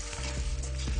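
Garlic and meat (gosht) frying in a pan give a steady, close sizzle, a continuous crackling hiss with soft stirring scrapes and no voices over it.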